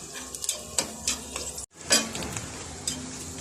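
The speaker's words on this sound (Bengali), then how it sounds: "আমার পেঁয়াজটা ভাজা হয়েই আসছে" Onions and green chillies fry in a little oil in a pan, a close sizzle broken by stirring scrapes and light utensil clinks, with a short pause midway.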